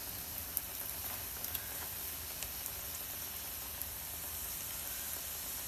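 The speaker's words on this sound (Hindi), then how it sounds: "इसको अच्छे तरीके से फ्राई कर लेंगे" Chicken pieces frying in oil in a pan, a continuous soft sizzle and hiss with scattered small pops throughout, steady and fairly quiet.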